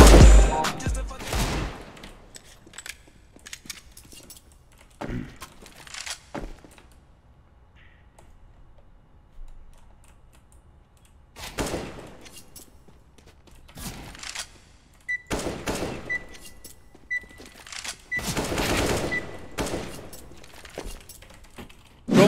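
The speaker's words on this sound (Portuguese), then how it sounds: "Vamos jogar um braço direito pra ver se a gente consegue dar umas balas aqui com essa AK-47" Bursts of AK-47 fire in CS:GO come in several loud clusters of rapid shots, separated by quieter stretches with faint clicks and movement.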